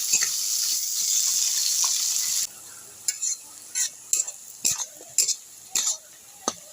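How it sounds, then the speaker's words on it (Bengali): Onions fry to a reddish brown in a pan for Bengali-style chicken kosha, a dense sizzle that cuts off abruptly, followed by a series of separate scraping stirs and clinks. "পেঁয়াজটা লাল লাল করে ভেজে নিয়েছি"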